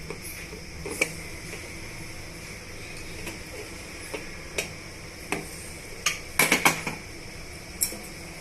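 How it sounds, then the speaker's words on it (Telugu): A pressure cooker lid is opened after cooking rice with moong dal for katte pongal, giving scattered metallic clinks and clatters, with a sharp cluster of knocks near the end over a quiet background hum. "ఇప్పుడు మనం కుక్కర్ మూత తీసి చూద్దాం"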